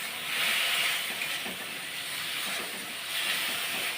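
Tomatoes fry in a pan in a home kitchen for a tomato egg curry, giving a steady, close sizzling hiss that rises and falls slightly and carries on alone, with no talking.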